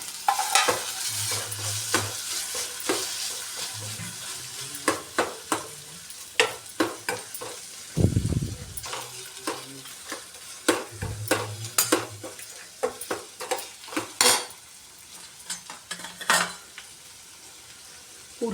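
Tomato and onion soften in oil in a pan for a sprouted-bean stir-fry, giving a faint sizzle under repeated sharp scrapes and taps of a spoon stirring against the pot.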